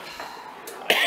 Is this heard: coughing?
yes